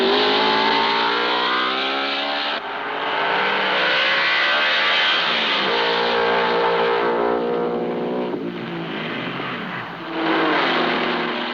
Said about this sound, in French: Dans les stands, on retrouve la Porsche 356 GS Abarth numéro 35 de Robert Bucher et Heinz Schiller